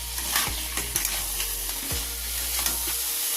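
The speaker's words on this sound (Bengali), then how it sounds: "আমি কাঁকড়াটা ভেজে নিয়েছি, দাঁড়াটা কষে দিয়ে দিচ্ছি।" Crab claws from a sea crab sauté in a hot pan with a steady bright sizzle, broken by several low thuds and scrapes as a spatula stirs them, with no talk.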